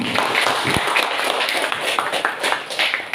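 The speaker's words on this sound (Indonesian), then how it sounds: "Tepuk tangan" An audience at a high school student council candidates' debate applauds, a dense, close burst of many hands clapping that holds steady and loud for the whole stretch with almost no talk.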